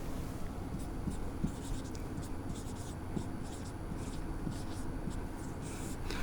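A teacher writes on a classroom board in a social studies lesson, producing faint scratchy strokes in a quiet room with a low hum and no speech.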